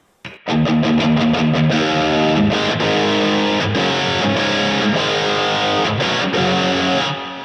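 Electric guitar played through a Valeton GP-50 multi-effects unit on its UK 800 amp model, heavily distorted chords ringing out loud and alone after a quick opening strum, with short rhythmic stops between sustained crunchy hits.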